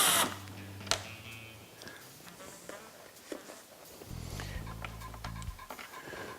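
Screws being removed by hand from the fairing of a 2011 Harley-Davidson motorcycle, with scattered small clicks, light scrapes and a couple of sharp taps up close, plus a brief low mechanical hum near the end.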